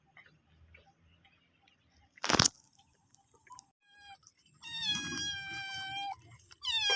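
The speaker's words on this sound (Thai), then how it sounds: "รู้แล้วว่าเป็นแมว" A cat meows outdoors, a couple of drawn-out, wavering cries near the end after a sharp loud knock and quiet rustling, with faint ticking in the background.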